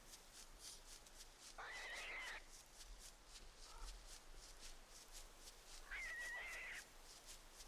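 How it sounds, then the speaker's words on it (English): Rabbits in a video game let out two shrill, squealing screeches a few seconds apart, faint and thin over a low, quiet background hum. "Yes, the rabbits are screeching."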